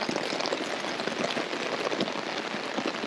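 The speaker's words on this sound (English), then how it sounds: "It kind of started raining." Steady rain falling in a park, a dense, even patter of drops on surfaces close by, continuous and moderately loud with no voices.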